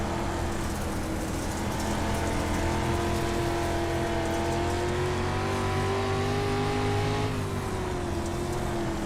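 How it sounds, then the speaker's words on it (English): Dirt-track race car engine heard on board car number 11 in a sim-racing event at Lernerville Speedway, a steady loud harmonic drone that dips and rises as the throttle eases, with no talking. "Hear him get out of the throttle a little bit. He's working the throttle up on the top side of the racetrack."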